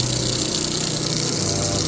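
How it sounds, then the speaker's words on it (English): A small solar irrigation pump running off a 12 volt battery pumps water with a steady, even motor hum and a rush of flowing water, close and continuous. "So it does pump water, and it does shut off when it builds up pressure, and it does run off of a 12 volt battery"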